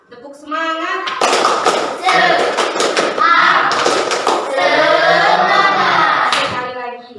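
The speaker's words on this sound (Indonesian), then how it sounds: "Tepuk semangat." A group of children at a school motivation session clap together in a rhythmic spirit-clap pattern, loud and close, with children's voices mixed in throughout.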